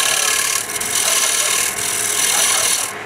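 Carbide cutter shaving a wooden bowl on a small lathe: a loud, continuous dry rasping scrape with brief dips in intensity, no voices.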